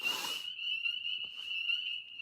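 A continuous high-pitched trill of frogs calling in a steady chorus, with a brief burst of broadband noise at the start.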